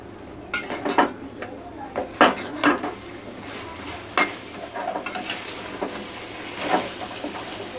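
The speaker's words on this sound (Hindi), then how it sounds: "इसको हम चला लेंगे हल्का।" Paneer pieces are stirred in a pan with a spoon, making several distinct clinks and scrapes against the metal, spaced irregularly over a quiet kitchen background.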